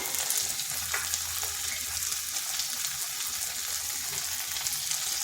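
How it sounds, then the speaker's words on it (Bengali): Whole cumin seeds fry in a pan with a steady, bright, hissing sizzle and fine crackle, close and even for several seconds, with a faint low hum beneath and no talk. "এখানে দিয়ে দিচ্ছি গোটা জিরা। জিরাটাকে একটু ভেজে নিলাম।"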